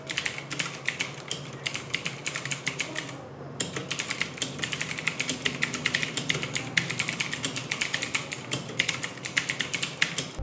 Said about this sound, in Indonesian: Gimana menurut kalian suara yang dihasilkan dari keyboard ini?